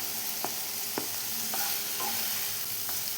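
Finely chopped onion and vegetables stir-frying for hakka noodles, a steady broadband sizzle with several short scraping stirs of a spoon against the pan, close and continuous with no talking.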